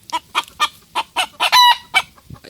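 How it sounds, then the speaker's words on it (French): Hens and a rooster clucking nearby, a steady series of loud, evenly spaced clucks with one longer call in the middle. "Je vous ai montré toutes mes poules."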